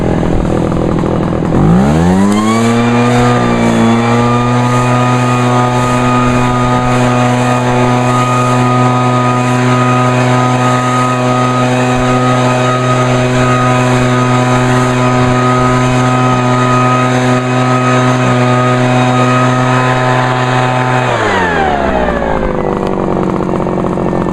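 An Echo leaf blower spools up sharply to full throttle, holds a loud steady high-pitched whine for about twenty seconds close by, then winds back down.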